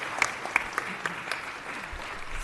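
Audience at a city council meeting applauding a school board member for his service: a steady patter of many hands clapping, fairly quiet and roomy, with a few sharper claps standing out near the start and no speech over it.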